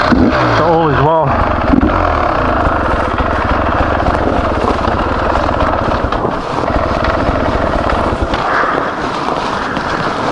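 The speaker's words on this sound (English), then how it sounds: "And I'm on a dirt bike" A dirt bike engine drones steadily close by while riding, with a rising rev near the start, and a person talks over the noise.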